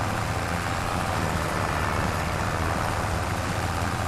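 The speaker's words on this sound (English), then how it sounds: "This tractor's kind of loud" A tractor engine in Farming Simulator 25 drones loud and steady throughout, a dense continuous rumble with no breaks and no voices over it.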